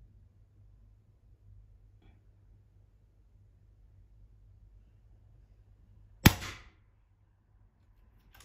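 A single sharp crack from an AirMaks Katran .177 air rifle fired during target shooting, close and loud against an otherwise quiet background, with a brief tail after the shot.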